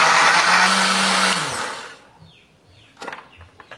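A blender grinds chili, turmeric, shallots, garlic, candlenut and ginger with a little added water, whirring loudly and steadily for about two seconds before winding down, followed by a few faint clinks.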